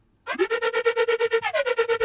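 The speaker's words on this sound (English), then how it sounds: "Making it a bit more edgy with the frequency shifter." A bright, buzzy festival trap synth lead through a frequency shifter holds one pitch in a fast pulsing stutter, with a brief rising swoop at the start and a small pitch dip midway.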